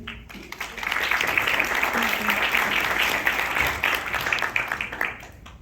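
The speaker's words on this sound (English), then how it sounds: "Big round of applause, please." A school audience at a safety patrol event breaks into loud, sustained applause that swells after a brief quiet start and carries on steadily to the end.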